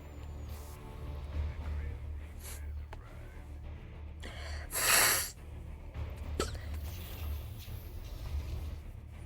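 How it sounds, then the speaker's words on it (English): A person with a cold sniffles several times in short, sharp nasal bursts, one loud one standing out, over a steady low hum of game sound while commentating a StarCraft II Terran versus Terran match. "Excuse my sniffling"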